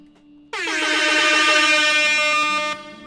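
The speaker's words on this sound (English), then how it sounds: "Maybe that's a bit preemptive to be blasting air horns already" A loud air horn blasts in one long, sustained, piercing honk that lasts a couple of seconds and then cuts off, heard alone with no talking.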